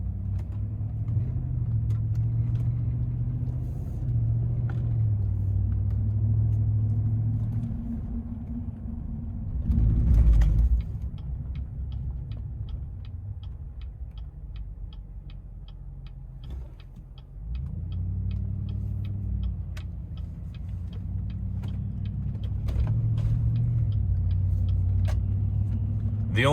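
A 2019 Chevrolet Silverado pickup's exhaust drones low under normal acceleration, rising and falling in steady pulls with a brief loud burst midway, heard from inside the truck with no talk.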